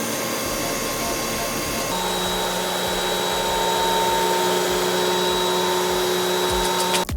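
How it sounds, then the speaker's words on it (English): A Hoover Windtunnel 3 upright vacuum cleaner, freshly repaired and back at full suction, runs with a loud, steady motor whine that shifts in pitch partway through and cuts off abruptly at the end. "now it's time to test the vacuum"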